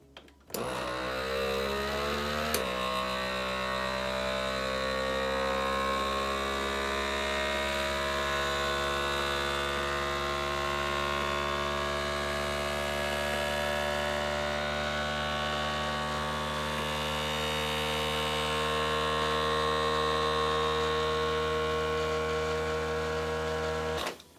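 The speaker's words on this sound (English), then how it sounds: "you're going to turn on the machine and you're going to push accessory" A Food Saver vacuum sealer hums steadily and loudly for over twenty seconds after a brief start-up, with a constant droning whine and no voices.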